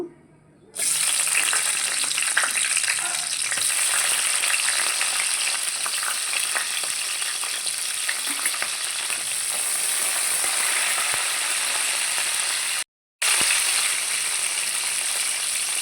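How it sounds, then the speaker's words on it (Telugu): Green chilies dropped into hot oil for a chicken kurma, giving a loud, continuous frying sizzle that runs nearly unbroken for about fifteen seconds, with a short cut near the end. "ఆయిల్ మిరపకాయ వేసేసుకుందాం అండి"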